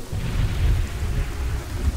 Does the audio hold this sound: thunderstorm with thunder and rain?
yes